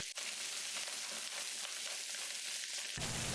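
Minced ginger and garlic frying in fish oil in a pan for fish soup, a loud continuous close sizzle without pauses that cuts off near the end.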